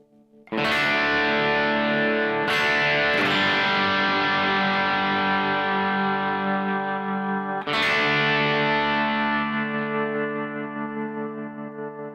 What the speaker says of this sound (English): So you can hear as the sound decays, then the tremolo comes in because of that ducking feature